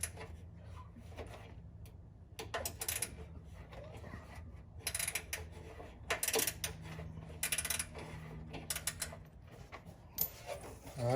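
A ratchet wrench works a 13 mm nut loose on a 2008–2013 Cadillac CTS 3.6L V6 engine, with repeated bursts of fast clicking ratcheting separated by short pauses, close and moderately loud.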